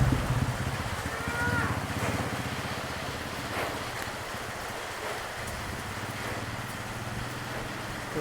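Steady rain falls over a buffalo farm, a continuous broadband wash of drops hitting surfaces at moderate level, with faint low rumbles and scattered murmuring voices underneath throughout.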